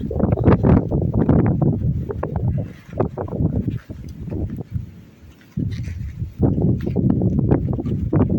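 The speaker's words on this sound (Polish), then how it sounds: "wiatr." Gusty wind buffets the microphone in loud rumbling blasts beside flowering buckwheat and beehives, easing briefly in the middle before roaring back.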